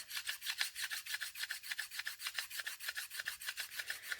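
Polymer clay being rubbed back and forth on a bicone bead makes a fast, steady rasping swish, about five strokes a second, close and soft, with no voices.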